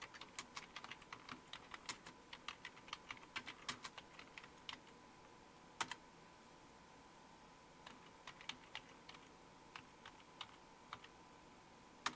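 Someone types a terminal command on a computer keyboard under Fedora Linux 38, producing quick, irregular bursts of close, crisp key clicks separated by short pauses, with no talk.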